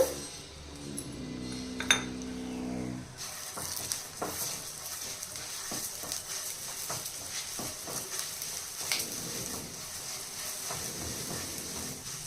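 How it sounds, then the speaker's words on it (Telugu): A cup of coriander seeds fries in hot peanut oil, a steady crackling hiss with scattered metallic clinks of stirring throughout. "ఆయిల్ వేడైన తర్వాత ఒక కప్పు ధనియాలు తీసుకున్నానండి ధనియాలు వేగించాలి ఫస్ట్"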